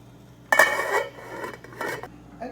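A lid settles onto a metal pot holding cabbage, a sharp clank followed by a few lighter rattles and a final small knock.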